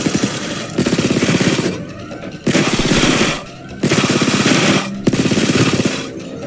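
Heist drill in the Payday 2 video game, a loud rapid mechanical chatter like a jackhammer running in several long bursts separated by brief pauses, close and steady.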